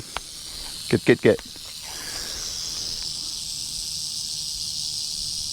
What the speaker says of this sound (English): this kind of sounds like a rattlesnake